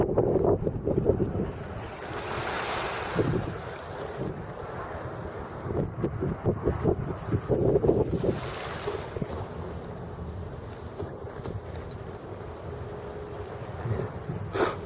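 Ocean waves from an incoming tide washing onto a beach in Saint John, New Brunswick, a steady rushing surge with repeated louder breaks, mixed with gusting wind noise across the microphone.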